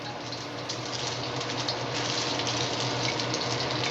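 Onions stir-fry in a hot wok with oil, giving a dense, continuous loud sizzle that stays even from start to finish.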